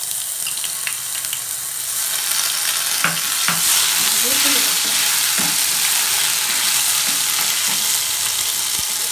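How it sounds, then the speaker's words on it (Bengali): Whole garam masala, turmeric, cardamom, cinnamon, cloves and ginger paste sizzle and fry in hot mustard oil, a steady close hiss with occasional stirring clicks and pops throughout, with no talking. "এবার সর্ষের তেল দিয়ে দেবো, গোটা গরম মশলা, হলুদ, এলাচ, দারচিনি আর লবঙ্গ"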